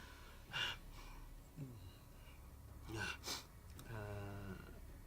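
A voice imitates the ragged breathing of a prisoner, a few sharp gasps and wheezy inhales spaced over several seconds, ending in a drawn-out rasping breath, close and quiet.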